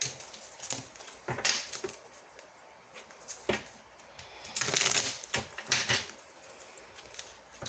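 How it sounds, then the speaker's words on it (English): Tarot cards being shuffled by hand, a series of crisp riffling bursts and soft slaps in uneven clusters, close and fairly quiet, with no voices. "so now they're shuffling."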